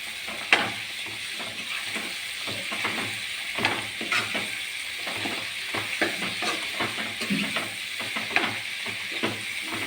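Spoon stirring a spiced narthangai citron pickle mixture in a pan, with continuous soft sizzling under repeated scraping strokes, close up, steady and without talk.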